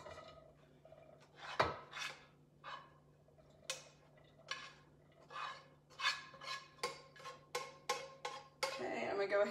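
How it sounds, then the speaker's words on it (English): Cooked ground beef being spooned into a cook pot for lasagna soup, a series of sharp metallic clinks and scrapes of spoon against pot, fairly quiet with short gaps between strikes. "So I'm gonna go ahead and put this stuff into the sauce pot, the cook pot."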